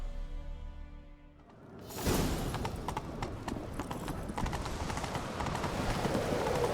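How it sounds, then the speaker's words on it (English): Hooves clip-clop rapidly in a steady galloping rhythm after a brief quiet lead-in, a horse in the video game The Witcher, loud and close with a whooshing, game-like ambience. "Grab a horse, we'll chase him down."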